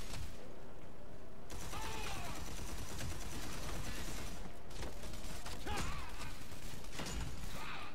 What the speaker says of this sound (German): Liebe es einfach nur mit dem Hammer drauf zu schlagen.